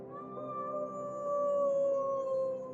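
Several people howl together outdoors at 8pm in Colorado, a COVID-19 evening ritual, producing long, steady, overlapping wails that hold their pitch and sound faint and distant, with no talking.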